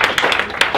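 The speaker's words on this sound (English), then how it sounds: "So a round of applause, I'm sorry." Brief audience applause after a medical talk, a short run of distinct, fairly close hand claps in an uneven rhythm.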